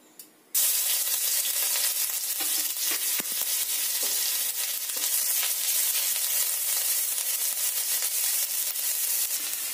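Dried chili and garlic paste hit hot oil in a home kitchen pan for an egg curry, bursting into loud, continuous sizzling and crackling frying that holds steady after a quiet start.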